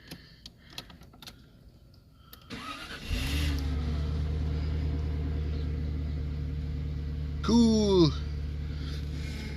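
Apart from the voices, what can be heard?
Jaguar car engine starting after fuel pump refit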